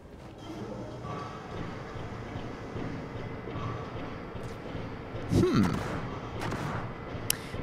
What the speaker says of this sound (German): man hört sie schießen, aber ich habe keinen Plan, wo sie sind.